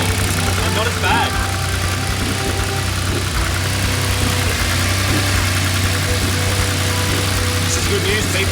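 A tuned Subaru Levorg making over 600 horsepower, with a known fault, idles loudly and continuously nearby. The engine runs with a steady rumble and a slight rough, knocking texture throughout.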